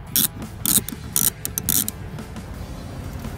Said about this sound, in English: Next is to remove the seat rail bolts using a T12 Torx socket.